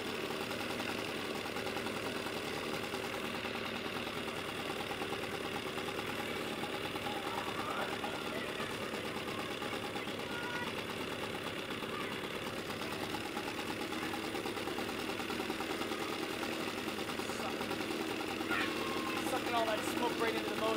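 A 1970 Evinrude 25HP outboard motor idling while burning a lot of oil, a steady, dense mechanical chatter that runs continuously and fairly loud without pause.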